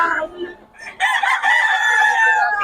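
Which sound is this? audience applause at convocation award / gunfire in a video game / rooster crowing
rooster crowing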